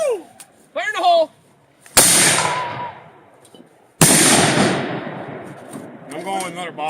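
Fireworks go off at close range, with two sharp, loud bangs each followed by a long crackling, hissing shower. Whistling rockets and excited voices come before and after.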